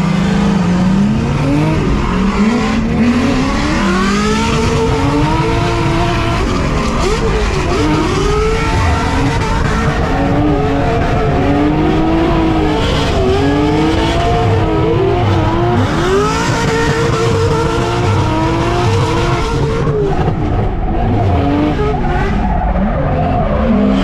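A supercharged LS3 race car runs hard on a track, its loud engine revving and shifting pitch continuously alongside tire squeal, close and sustained throughout with no talking.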